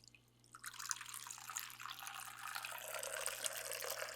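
A freshly shaken classic daiquiri poured through a bar strainer into a glass, a steady close trickle and splash of liquid that starts after a brief pause and keeps flowing to the end.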